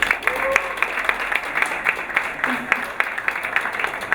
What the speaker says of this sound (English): Please have an applause for the lady.